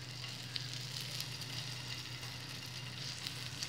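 Steady, close sizzle of green chickpea batter spread flat on a hot oiled griddle, a continuous crackling hiss of frying with faint pops, no talking.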